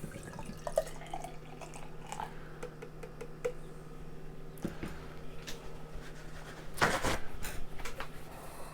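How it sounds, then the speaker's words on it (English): Tree House King Julius, an 8.4% double IPA, is poured from a can into a glass: faint drips and small clinks, then a louder gushing splash near the end, with no talking. "I haven't been doing a good job pouring out of cans lately"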